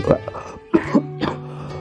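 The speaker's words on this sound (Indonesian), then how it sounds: "Minta maaf ya, saya batuk" Several short, rough coughs close to the microphone, spaced irregularly with brief quiet gaps between them.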